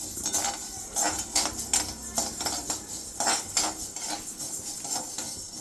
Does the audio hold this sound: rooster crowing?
no